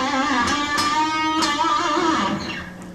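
An electric guitar sustains a single note with wide, fast vibrato, its pitch wobbling quickly and broadly before fading at the end. The note is close and clear, with no talking.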